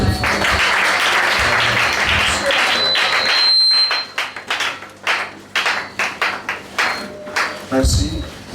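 A church congregation applauding loudly, a dense wash of clapping and cheering that thins into scattered, rhythmic claps with a few voices speaking over it before a final swell.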